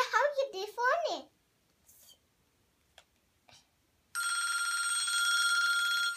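A telephone bell rings loudly and continuously near the end, after a child's speech and a few brief clicks and ticks at the start.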